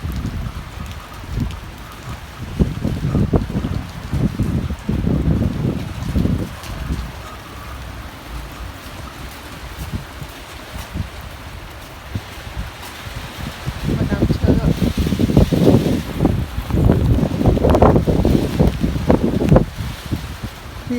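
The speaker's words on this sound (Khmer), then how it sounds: "ភ្លៀងតិចតិចទេតែពេលខ្យល់ខ្លាំងចឹងទៅដូចភ្លៀងខ្លាំងចឹង" Light rain falls in strong wind behind a house, with gusty rumbling wind noise and patter swelling and fading, especially toward the end, while a person speaks at times.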